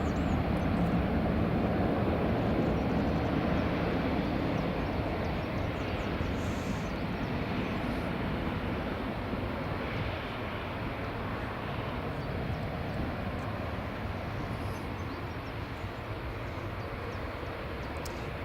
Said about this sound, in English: Qatari is finally able to taxi in onto stand